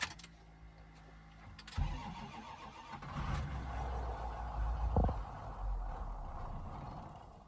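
A Ford 6.0 Powerstroke diesel with a cracked injector tip cranks and fires, then settles into a rough mid-pitched idle with a brief surge, recorded at moderate distance and fairly faint, with no talking.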